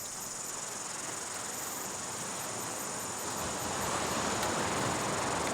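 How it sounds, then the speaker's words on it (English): Cicadas buzz at a campsite in a dense, continuous, high-pitched drone. The chorus is steady and grows slightly louder toward the end, with no talking. "the cicadas have started kicking off. I don't know if you can hear the cicada sound"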